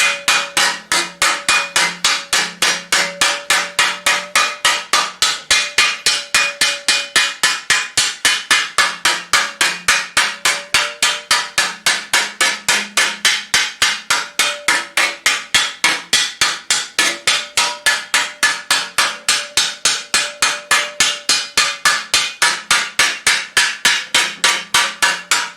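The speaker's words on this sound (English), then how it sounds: "Now I do a little bit of planishing this way." Steel greaves are planished with a hammer over a ball stake: a long, steady run of rapid metallic blows at an even rhythm, close and loud, with no voices.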